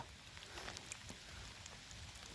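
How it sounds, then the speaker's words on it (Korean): Evening rain falls outdoors as a faint, steady patter of drops on the ground, with scattered sharper ticks and no voices. "비 온다"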